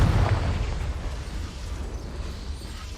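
A Confringo fire spell explodes in Hogwarts Legacy, a heavy booming blast at the start that rolls off into a low, rumbling decay.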